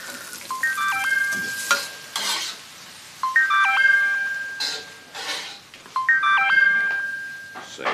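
A telephone rings with an electronic melodic ringtone, repeating its short tune three times with pauses between. The ringing is fairly loud over a steady background hiss.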